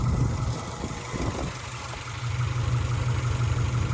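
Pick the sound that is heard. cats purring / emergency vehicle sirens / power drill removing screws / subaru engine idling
subaru engine idling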